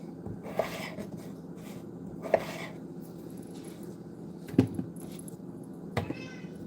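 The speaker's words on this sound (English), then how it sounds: "Can you guys hear my cat crying?" A house cat gives a few short, faint meows in a kitchen during cooking, with brief cries spaced apart over a low room hum and occasional light clatter.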